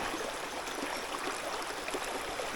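Mint Creek, a trout-fishing stream, flows in a steady, even wash of water that holds constant for the whole stretch with no voices.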